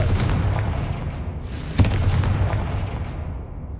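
The Confringo explosive spell from Hogwarts Legacy goes off as a loud booming blast with a sharp crack, then a rumbling decay under a steady game background roar.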